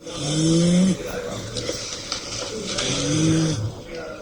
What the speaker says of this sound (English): I didn't know that cats really snored.